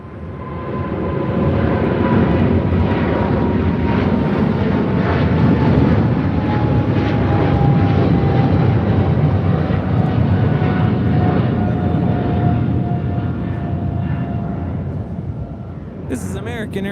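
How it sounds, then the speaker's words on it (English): An American Airlines Boeing 777-300ER takes off from LAX, a loud sustained jet roar with a slowly falling whine that holds steady, then eases slightly near the end, with people talking faintly beneath. "This is American Airlines 2284 taking off to Miami, Florida on a 777-300ER."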